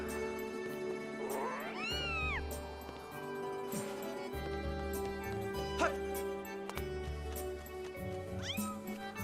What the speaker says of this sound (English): Now we gotta walk up to that cat slowly.